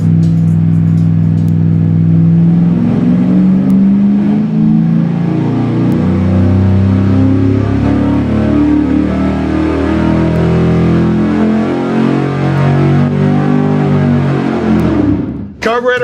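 Carbureted V8 making about 480 horsepower during a full-throttle dyno pull: a loud, close, sustained engine roar climbing steadily in pitch for around fifteen seconds before cutting off abruptly.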